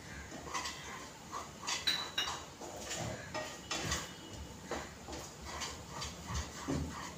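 A spoon scrapes and clatters against a pan as a cashew modak mixture is stirred and sautéed until it gathers into a ball, with repeated close, uneven scraping strokes in a kitchen.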